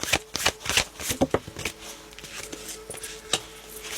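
Tarot cards are shuffled by hand close up, a crisp run of rapid riffling and flicking snaps that thins into scattered softer card taps.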